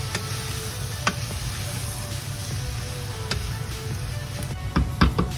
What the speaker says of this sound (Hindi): थोड़ा बारीक करती हूँ, मैश करती हूँ, और वो भी चम्मच के साथ ही हो जाते हैं